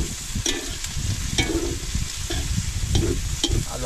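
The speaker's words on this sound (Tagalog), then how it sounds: "Halo-halo po natin maigi para po maluto." Pancit noodles with vegetables being stirred in a hot frying pan, a steady sizzle broken by repeated scraping utensil strokes roughly every second, close and loud with no talking.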